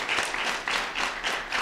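Brief burst of audience applause at a political event, dense clapping swelling and easing in waves, with no voice over it.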